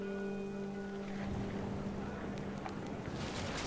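Steady rain in the video game What Remains of Edith Finch, a dense continuous hiss that fills the clip, with a low sustained tone underneath and no talking.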